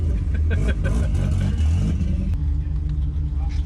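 A Ford Mustang Cobra engine, revived after 27 years abandoned, rumbles steadily up close, its low drone continuous throughout, with a brief rise in pitch partway through.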